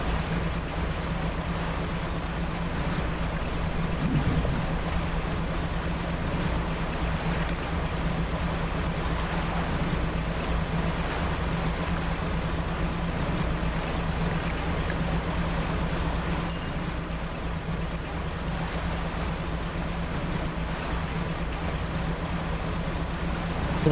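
Small fishing boat sailing in the video game Dredge, a steady low engine hum under continuous washing waves and wind, even and unbroken for the whole stretch with no talk.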